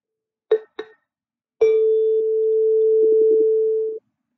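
A single note struck on a xylophone in a percussion demonstration, after two short knocks, rings out steadily and close for over two seconds before being stopped.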